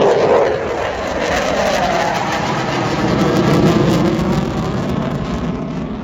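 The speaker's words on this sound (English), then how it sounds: "please welcome Turbo in the mighty Typhoon." A Eurofighter Typhoon jet makes a loud arrival at the Eastbourne International Airshow, a sustained broad roar that holds steady for several seconds with a slight swell in the middle.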